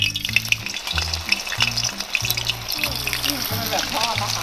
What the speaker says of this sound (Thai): มันร้อนควันขึ้นแล้วนะคะ เราก็จะเอาขนมลงไปทอดเลยค